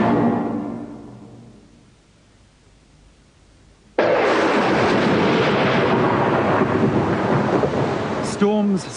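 A loud thunderstorm: a fading rumble of thunder drops to quiet, then a sudden sharp thunderclap bursts in and rolls on with steady heavy rain noise, with another crack near the end.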